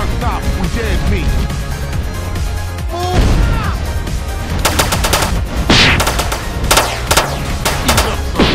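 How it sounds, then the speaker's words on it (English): Gunfire from a GTA San Andreas firefight comes in rapid bursts from machine guns alongside crashing impacts, with characters shouting over the loud, dense action. "We iced him"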